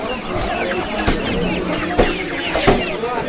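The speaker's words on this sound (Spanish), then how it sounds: "Hostia, mira los pollos." Chickens cluck at a busy outdoor market in a crowded city, several close squawks and clucks popping over a constant murmur of crowd noise and voices.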